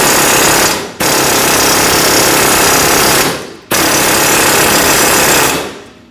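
Pneumatic air chisel hammering at a seized bolt on a 2005-2021 Nissan Frontier 2WD lower control arm, a loud, continuous rapid-fire rattle in two long bursts with a brief pause between them.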